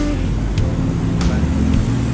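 Traffic noise from a jammed Bangkok street, a loud steady rumble of idling and creeping engines with occasional sharper vehicle sounds, while a person talks over it.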